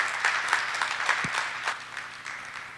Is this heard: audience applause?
yes